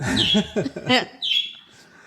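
Pet birds kept indoors let out sharp chirps and a few harsher squawks in quick bursts, close and fairly loud, overlapping a short stretch of voice.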